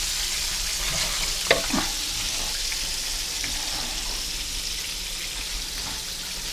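A frying mixture is stirred in a pan while making buttermilk fried chicken, with a steady sizzling hiss throughout and a few close scraping and knocking stirs early on.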